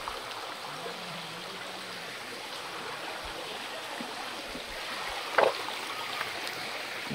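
Clean fresh stream water flows through a forest as a faint, steady rushing and trickling murmur, with one brief sharp sound near the end and no talk.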